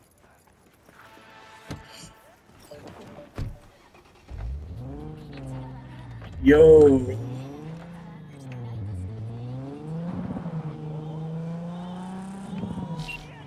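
A car in Cyberpunk 2077 on PS5 is summoned and driven, its engine revving up and down in rising and falling sweeps, with a brief tire squeal midway and a player's voice at times.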